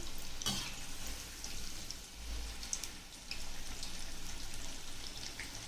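Chicken kebab pieces fry in a pan over a medium flame, giving a steady, moderately quiet sizzle with occasional pops and crackles and no talking.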